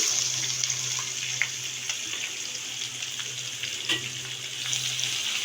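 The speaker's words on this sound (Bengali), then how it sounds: "পেঁয়াজটা একটু আমি লাল করে ভেজে নেব" Chopped onions fry in oil with garam masala, making a steady, close sizzle with soft stirring and a faint low hum underneath, and no one talks.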